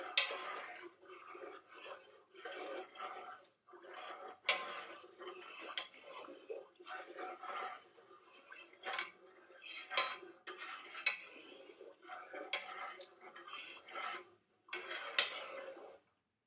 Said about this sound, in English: I am going to stir this up to make sure it dissolves.